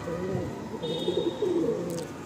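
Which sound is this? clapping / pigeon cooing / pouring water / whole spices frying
pigeon cooing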